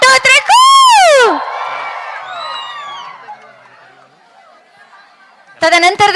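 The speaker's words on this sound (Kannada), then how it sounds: "ಒಂದಾದ್ರೂ ಬರ್ಲಿ ಚಪ್ಪಾಳೆ, ಆವಾಜಾದ್ರೂ ಬರ್ಲಿ" A crowd at a Karnataka Rajyotsava cultural celebration in Goa lets out a loud whooping cheer and shouts, which fade into a low murmur of crowd noise before voices rise again at the end.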